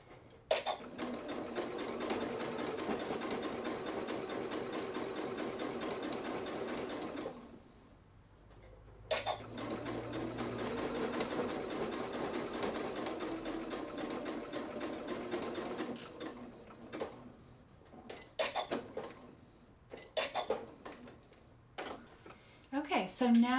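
A sewing machine stitches a kangaroo pocket band onto a sweatshirt with a fast, steady, close mechanical chatter. It runs in two long spells separated by a short pause, then ends in a few brief stop-and-start bursts.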